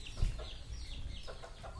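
Bantam chickens, a small flock of two roosters and six hens, cluck softly in short scattered calls over low farmyard background, fairly faint and without talk.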